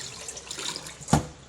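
Water runs softly from a tap over fish being washed in a sink, a steady close trickle broken by one short, louder splash near the end.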